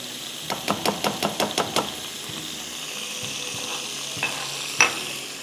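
Chopped onions frying in a pan, opening with a quick run of about eight rhythmic spatula taps against the pan, then a steady sizzle with a few scattered clinks and scrapes.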